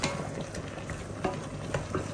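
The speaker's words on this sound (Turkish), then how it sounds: "Burada da sebze sote yapıyorum." Vegetables sauté in a hot pan with steady sizzling and crackling, occasional light stirring clinks, fairly quiet and continuous.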